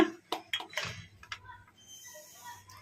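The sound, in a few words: cashews being added to a mixer jar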